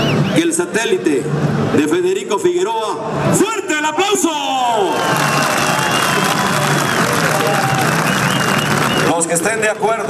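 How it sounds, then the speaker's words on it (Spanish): A rodeo crowd at a jaripeo at the Iguala fair in Guerrero applauds and cheers loudly, clapping, whooping and shouting in a dense roar, with an announcer's amplified voice over the noise at the start. "¡fuerte el aplauso!"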